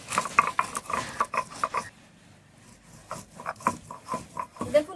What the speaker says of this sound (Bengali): লঙ্কাটা আমি এরকম ভাবে আধ বাটা করে নিচ্ছি